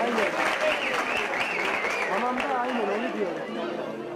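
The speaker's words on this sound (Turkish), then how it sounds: "Hocamıza şöyle güzel bir alkışlayalım." A crowd at an inter-school folk song competition in Artvin gives lively applause for a music teacher, loud continuous clapping mixed with chatter and a few voices.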